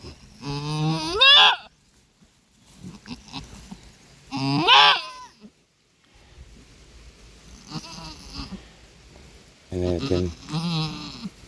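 A pregnant goat bleats loudly several times, close by, with rustling and light movement noise between the cries.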